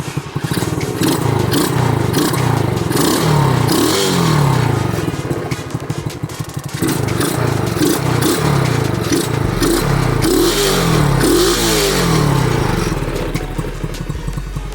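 A pocket rocket mini bike's small engine runs just after a carburetor upgrade, popping and revving loudly up close with repeated throttle blips and rattly clatter throughout.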